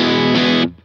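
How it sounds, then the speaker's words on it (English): An electric guitar through a worship guitar rig, strummed hard so the tone breaks up into distortion: one loud, dense chord burst that swells midway, then cuts off and decays briefly. "if I strum really hard that you're going to hear some distortion"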